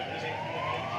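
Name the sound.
ambulance passing with siren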